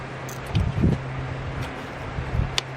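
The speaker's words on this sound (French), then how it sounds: "Je suis désolé pour le vent, il fait très mauvais ici." Wind gusting outdoors and buffeting the microphone during roadside work on a car's fuel injector, with low rumbling bursts and a steady low hum under the broadband roar.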